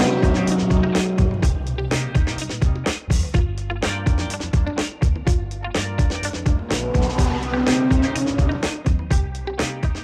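A Bugatti pulls away at a car event, its engine note rising and falling with sharp bursts and rattling transients, loud and nearby, mixed with surrounding crowd and vehicle noise.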